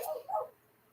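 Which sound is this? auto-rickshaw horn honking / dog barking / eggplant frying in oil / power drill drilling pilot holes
dog barking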